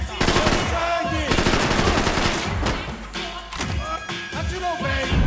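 Heavy gunfire in the video game Max Payne 3, dense bursts of automatic shots rattling almost continuously and close, with brief dips between volleys and shouted voices mixed in.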